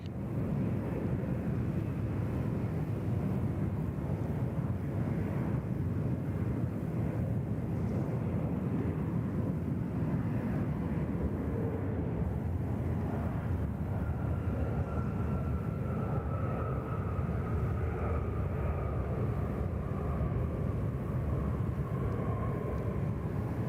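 United Airlines flight 829, a heavy airliner passing at Sydney Airport, gives a steady distant low rumble with faint wind noise, and a rising tonal whine emerges partway through.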